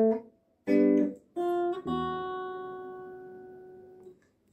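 Acoustic guitar playing the intro of a song, a few plucked notes and a strummed chord ringing out and slowly fading, close and alone.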